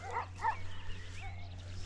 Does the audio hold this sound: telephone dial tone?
no